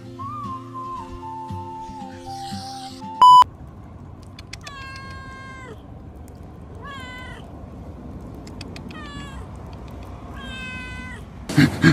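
A cat near a waterfall in Chukai, Kemaman, Terengganu meows several times, clear and close, with short gaps between calls; a whistle-like tone and a sharp beep come just before, and faint rustling follows.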